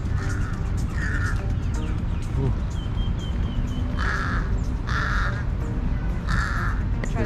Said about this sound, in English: Those crows sound very menacing.